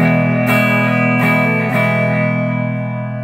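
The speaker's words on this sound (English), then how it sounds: "Oh, I got a really wet delay on," A sustained electric guitar chord through a 1983 Mor-Gain and a wet delay is struck a few times, each strum smearing into lingering echoes that slowly fade.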